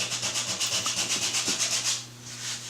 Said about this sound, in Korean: 약간 튀어나온 부분을 사포로 갈아서 평평하게 만들어주는 작업을 하고 있습니다.